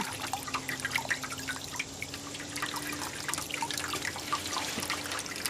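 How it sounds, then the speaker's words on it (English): A kitchen tap runs slowly, giving a thin, steady trickle with scattered drips and splashes that continue evenly throughout, with a faint low hum behind. "This is just how fast my water is"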